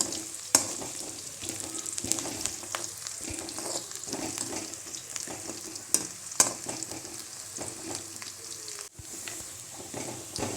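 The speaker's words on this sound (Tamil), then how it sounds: "வெங்காயம் நல்லா வதங்கிட்டு இருக்கு" A quiet, steady sizzle of onions sautéing in a pan for upma, broken now and then by the clink and scrape of a stirring utensil.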